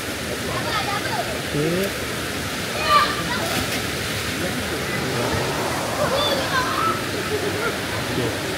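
Clear, shallow river water flowing steadily past a riverside campsite at Lubuk Tengas, a continuous rushing wash that runs throughout with a brief word spoken over it.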